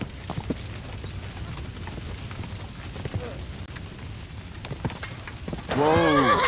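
A horse in the video game Kingdom Come Deliverance 2 gallops with steady hoofbeats under battle noise, then lets out a loud, close neigh near the end.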